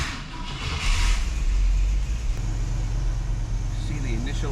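A carbureted-style V8 engine fitted with FiTech throttle-body fuel injection idles high during warm-up just after startup, a steady low rumble with some shifting tone, while a voice talks over it.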